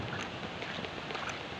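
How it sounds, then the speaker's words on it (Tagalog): Steady broadband roar of strong wind after a typhoon, constant and rushing, with no voices and only slight gusting variation. "Malakas pa rin ang hangin."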